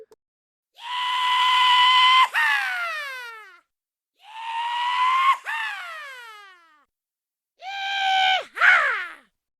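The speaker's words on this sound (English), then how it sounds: "it's easy to tell when he comes down as he screams." In Plants vs. Zombies, the Bungee Zombie lets out three loud, drawn-out screams, each sustained before ending in a sharp warbling drop, with silent gaps between them.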